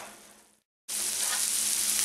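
Catfish fries in a pan with a loud, steady sizzle that cuts out briefly, then returns at full strength, close and continuous.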